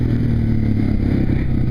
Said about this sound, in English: Maybe you just need to snap the throttle.